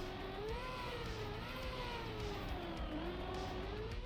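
A steady, droning car engine hum from the video game Deep Dip 2, with a wavering pitch, synthetic and continuous at a moderate level, with no talking.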